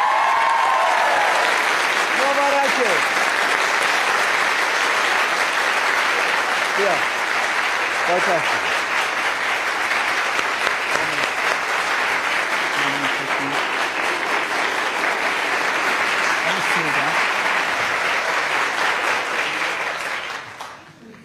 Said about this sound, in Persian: بچه ها تشویقش کنو.